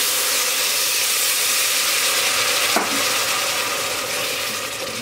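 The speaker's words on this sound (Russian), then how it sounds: "И вот теперь всю эту красоту припускаю апельсиновым соком." Orange juice poured into a hot pan of pumpkin for a pumpkin soup with ginger, giving a steady, close hissing sizzle with a brief sharper splash near the middle, no speech.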